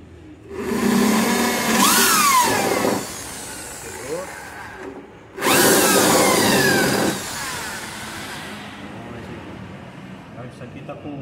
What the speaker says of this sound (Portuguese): Peguei uma broca 6mm